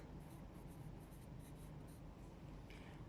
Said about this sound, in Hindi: अब यही इन्फॉर्मेशन हमें जर्नल में एंट्री करनी है। पहले हम लिखते हैं डेट जून 1